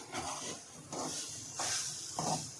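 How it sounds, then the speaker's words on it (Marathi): Grated coconut roasting in a pan for a Marathi ukadiche modak filling, giving four soft hissing, scraping bursts in a steady rhythm, close and quiet, each fading before the next stir. "जरा खोबरं लाल होईपर्यंत भाजायचं जरा।"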